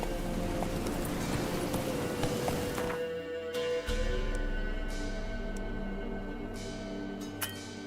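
Horse galloping in The Witcher 3 video game, rapid rhythmic hoofbeats thudding close and loud for the first few seconds, then slowing into sparser clops with ambient game background.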